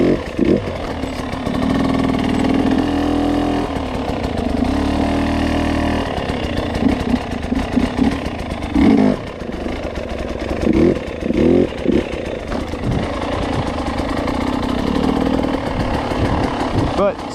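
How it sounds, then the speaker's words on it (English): A motorcycle engine idles and revs in uneven bursts during slow clutch-control riding practice, the throttle rising and falling repeatedly over about seventeen seconds with a steady rumble between revs. "Try not to stall the bike, because that'll help you with the clutch control."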